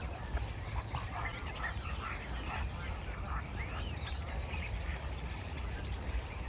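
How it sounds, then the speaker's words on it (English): Starlings chatter and whistle in a roadside hedge, a busy tangle of overlapping chirps and squeaky calls over steady low traffic rumble. "It's all starlings, I think."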